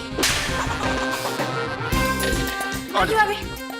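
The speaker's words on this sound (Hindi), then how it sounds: "मैगी तुम थप्पड़ किस डायरेक्शन से खाओगे?" A sharp slap-style hit effect in a Hindi family drama comedy, cracking out over a busy, dense music score with a few more whip-like accents following.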